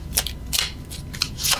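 Tarot cards being shuffled by hand, heard as a few quick papery riffling bursts close up with brief pauses between them.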